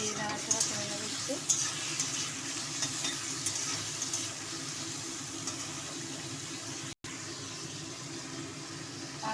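Boiled ghetkol stems tossed in a frying pan produce a soft, continuous sizzle with scraping stirring strokes, fairly quiet and even, with a brief dropout partway through.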